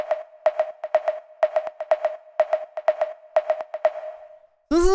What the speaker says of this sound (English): it's one of these famous 808 tom or conga sort of samples